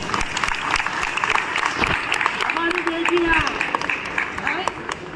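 Applause rises from a Rajasthani Brahmin community Diwali gathering in Telangana, a broad wash of clapping with a voice speaking over it at times, moderately loud and continuous.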